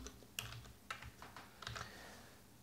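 Quiet, close typing of code on a computer keyboard, a few irregular soft key clicks and taps with no talk.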